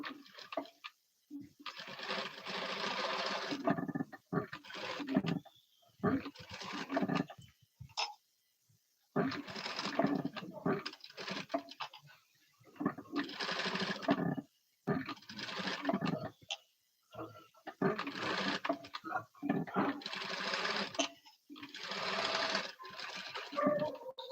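A sewing machine runs in repeated bursts of a few seconds each, broken by short pauses, while a Punjabi dress neckline patch is stitched.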